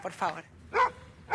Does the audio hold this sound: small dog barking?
yes